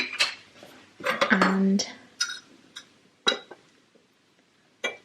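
A spoon scoops raspberry jam from a jar, with a few light clinks and scrapes of metal on glass close by. A person talks over some of the sounds.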